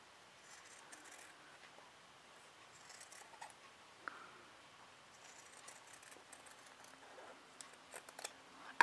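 Scissors snip fabric while trimming pieces for a teacup cosy, a series of faint, light cuts spread across the clip with small clicks from the blades, close by and without talk.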